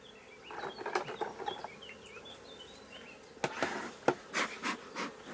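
Honey bees buzz around an open beehive as a honey super is set on it, a faint, wavering hum with a few sharper knocks and taps.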